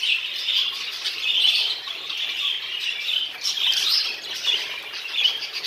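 Texas Jumbo budgerigars in a breeding room give a dense, continuous chorus of shrill squawks and chirps that overlap and swell in loudness, with no voices.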